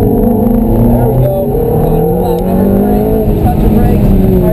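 A Ferrari engine revs steadily and loudly throughout as it accelerates out of a corner at Candlestick Park, its pitch climbing as it speeds up, with road and cabin noise and faint background talk.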